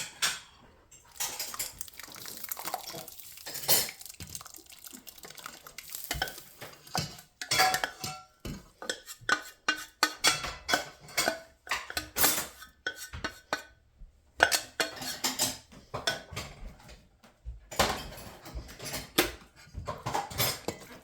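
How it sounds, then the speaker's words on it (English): Meat being stirred into sauced spaghetti noodles in a pot, with repeated clinks and scrapes of a utensil against cookware, busy and uneven throughout with brief pauses, no talking. "So now that the meat is ready, I'm just going to add it to the noodle mixture here."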